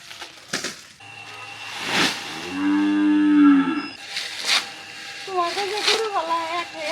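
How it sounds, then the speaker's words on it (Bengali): A cow moos loudly and close by on a farm, one long drawn-out low call in the middle, with scattered shorter sounds and a faint voice around it. "গরু নিয়ে এলাম কেবল"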